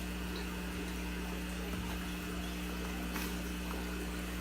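Steady water flow through a SunSun aquarium canister filter, a constant low rushing and gurgling hum over a faint hiss, continuous and even throughout with no talk.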